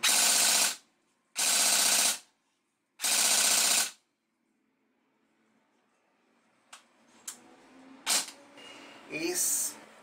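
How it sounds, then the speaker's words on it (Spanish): Bursts of fire from an HK airsoft replica with blowback, three loud, sustained automatic volleys with gaps between, followed by quieter mechanical clicks and handling noises. "acá les vamos a mostrar cómo funciona tiro a tiro y en ráfaga"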